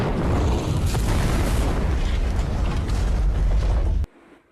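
A large gas cylinder blows up in a horror video game set in a haunted old house: a loud, sustained roaring blast with rumbling debris for about four seconds, then an abrupt cutoff to a faint hum.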